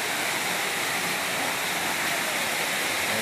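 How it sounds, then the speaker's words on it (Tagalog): A small waterfall pours as a steady, dense rush of water, close and even, with no other sounds above it. "Ito, lalapitan natin yung maliit na falls dito."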